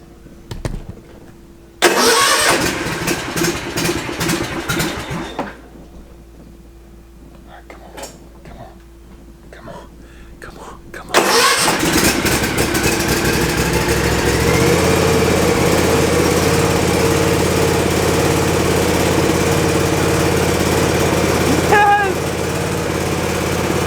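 A zero-turn lawn mower engine on choke cranks in sputtering bursts, goes quiet, then catches and settles into a loud, steady running drone, with someone talking nearby.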